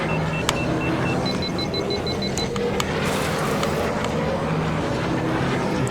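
Podracer racing in Star Wars Episode 1 Racer, a continuous loud engine whine and roar with brief electronic beeps and a whooshing swell partway through, no speech.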